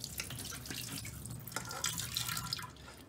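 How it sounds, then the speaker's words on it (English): Cloudy buttermilk wash water is poured off a batch of homemade butter, trickling and splashing softly in an uneven stream with a few drips, close and quiet, with no speech. "the water is still cloudy so it indicates that there are still a lot of buttermilk inside so we're going to just pour that out"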